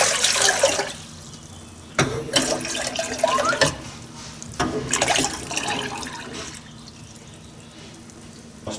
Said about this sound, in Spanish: en la otra cacerola vamos a echarle las 3 tazas de agua